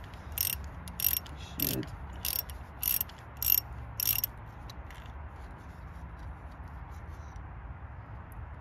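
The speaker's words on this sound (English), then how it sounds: "we've just been to Halfords to get a 10mm socket for this wrench" A ratchet wrench with a 10mm socket loosens a glow plug on a Jeep Cherokee XJ, giving six short, crisp clicking ratchet bursts at a steady rhythm, close and clear over faint background noise, with a brief spoken word.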